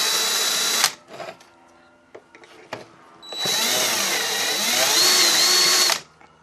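A power drill bores a dimple into a metal brake caliper conversion bracket for a 1995 Honda Accord, with short loud bursts of whirring, then a sustained drilling run of about three seconds before stopping.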